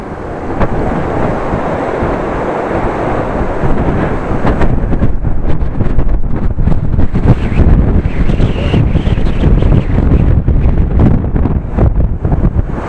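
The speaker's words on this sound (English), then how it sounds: "Gust of wind, oh really?" A strong gust of wind buffets the microphone during a bike ride in Groningen, with loud, rough rumbling that swells and stays heavy for several seconds.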